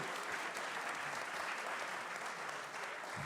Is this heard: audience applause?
yes